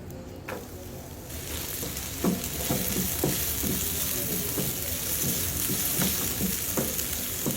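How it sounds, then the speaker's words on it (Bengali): Onion frying in a pan for a chicken roll filling, a steady close sizzle with repeated scraping and stirring knocks throughout. "এখন একটা পেঁয়াজ নিব, পেঁয়াজটাও ভেজে নিলাম"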